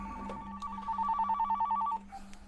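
An electronic telephone ring trills in a fast pulsing two-tone pattern, close and clear over a low hum, then stops, leaving a brief chirp.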